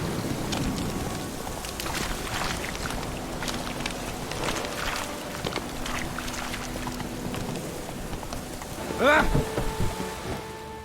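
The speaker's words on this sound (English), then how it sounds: "Let it rain." Rain patters steadily over a low rumble of distant thunder, faint and continuous, with a brief louder creak or stir near the end.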